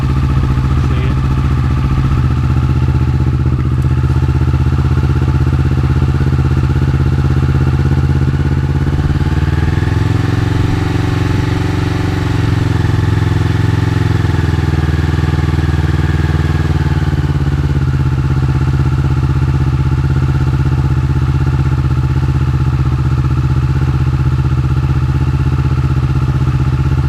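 A Kawasaki Vulcan S650 engine idles loudly and close for the whole stretch, a steady low rumble with a brief gentle rise in revs midway before settling back.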